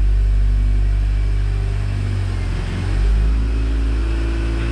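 A Lotus Elise sports car engine, freshly reassembled, runs at a steady low rumbling idle with a brief swell in revs midway, close and loud with no talking.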